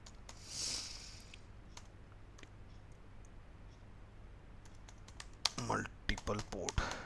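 A computer keyboard clatters with a few sparse keystrokes, then a quicker burst of typing near the end as a Docker command is entered, with some faint background noise between the keys.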